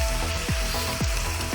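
Rice fries in a pan with a steady, crackling sizzle as a wooden spoon or spatula breaks it up, giving repeated scraping strokes about every half second over the constant hiss.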